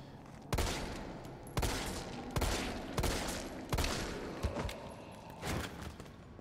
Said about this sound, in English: Explosions, okay.